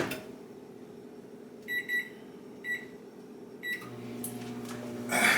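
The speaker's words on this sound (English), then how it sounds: "So, we're going to throw this in the microwave." A microwave oven beeps as its keypad is pressed, then starts up with a low steady hum and whir, heard up close in a quiet kitchen while cooking a fish and mac wrap.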